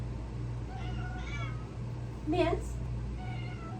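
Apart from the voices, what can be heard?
cat meowing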